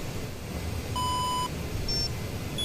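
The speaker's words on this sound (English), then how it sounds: "the frequency of the beeps, the pitch is higher, and the frequency between the beeps is they're much closer together" Radar warning receiver tones in the AJS37 Viggen cockpit in the DCS World combat flight simulator: a long steady beep, then shorter, higher-pitched beeps set closer together, over a constant cockpit hum.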